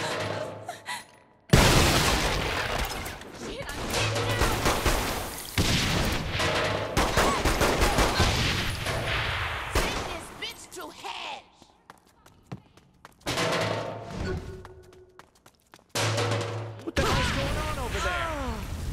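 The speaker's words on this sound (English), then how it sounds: "Fun with grenades." Grenades and gunfire in the Saints Row 3 video game, with repeated loud explosive bursts and rattling shots in dense clusters, some with game voices or talk mixed in.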